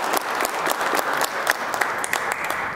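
Enthusiastic applause fills a New York State model Senate chamber session, a sustained dense crowd clapping with sharp individual claps popping through, loud and close with no talking.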